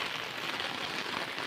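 Steady, dense rain falls in a continuous close hiss with no breaks and no voices.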